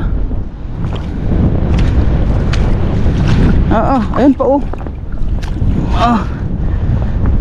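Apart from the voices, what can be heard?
strong wind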